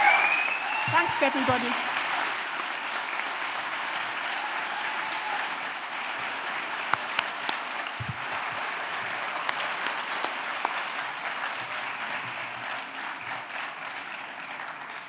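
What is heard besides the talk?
graduation audience applause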